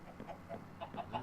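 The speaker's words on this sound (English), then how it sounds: "We'll try catching one of the sand chickens first." A sand chicken in Sky Factory 3 gives quick, faint clucks, four or five short pulses in rapid succession, close and quiet.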